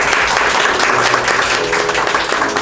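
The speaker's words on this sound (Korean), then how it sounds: "우리 박수로 함께합니다." A church congregation applauds during an Easter Sunday service, a dense continuous round of clapping from many hands filling the room, steady and loud throughout.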